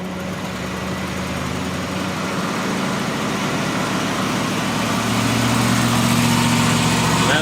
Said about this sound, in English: we're about to do a brake stand burnout with a million-mile Crown Victoria.